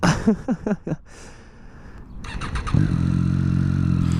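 A new motorcycle's engine starts after a few sputtering cranks, then settles into a loud, steady idle close by.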